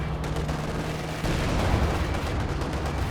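Battle noise from Company of Heroes 2 as a Panzer IV tank fires at a KV-1, a dense rumbling barrage of gunfire and artillery that swells abruptly partway through and stays loud.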